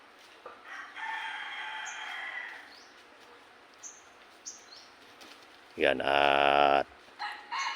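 A red junglefowl crows in an open backyard setting with no chicken net: a drawn-out rooster call near the start, then a louder, closer crow near the end, with faint chirps and brief talk between.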